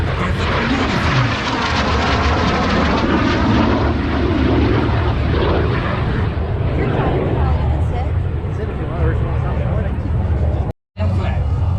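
Airshow airplane engine holding a steady drone through a flight maneuver, loud and continuous for most of the stretch before a brief dropout near the end; a voice commentates over it.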